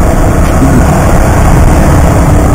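The engine of an all-new Yamaha R15 motorcycle drones loud and close on a test ride, a dense, steady low roar mixed with rushing wind, with no talk.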